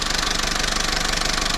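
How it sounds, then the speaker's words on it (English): A Vauxhall Corsa C engine idles steadily with lights and heated rear window switched on for load, a close, even rhythmic throb with a slight knocking pulse and no talk. "The reason I've put the lights on and everything else is just to try and add a bit of load to the engine."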